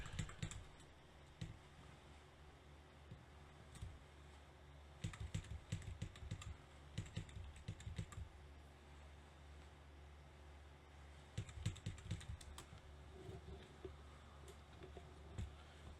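Someone types a password on a computer keyboard, quiet close key clicks coming in short bursts separated by pauses, with no speech.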